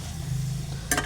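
Fenugreek greens and onion sautéing in a pan give a low, steady frying hum, then a short bright burst of sizzle near the end.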